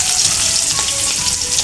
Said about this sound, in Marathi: कढीपत्ता आणि ही हिरवी मिरची चांगली फ्राय करून घ्यायची